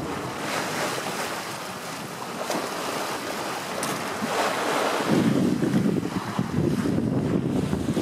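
Steady wind rushing past a sailboat in light air, with a continuous broad hiss of wind and water that swells slightly louder in the second half, with no voices.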